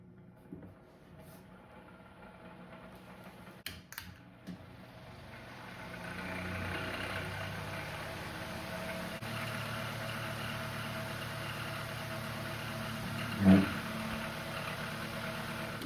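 An electric fan that struggles to start, first quiet with a few clicks, then spinning up after several seconds into a steady, noisy whirring hum that keeps running with a brief knock near the end.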